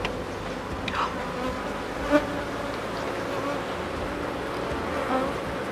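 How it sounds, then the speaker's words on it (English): Bees and wasps buzz steadily around an open beehive, a continuous close insect drone with wings flitting near and past, no talk heard. "Look at that wasp."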